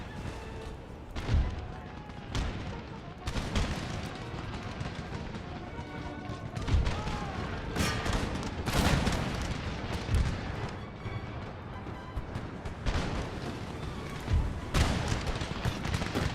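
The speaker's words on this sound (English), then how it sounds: "their artillery is taking out my puckle guns" Heavy artillery fire in the video game Empire: Total War, with a hillside battery shelling puckle guns during a battle: dense, continuous rumbling booms and cracking blasts that stack up close and loud across the whole stretch.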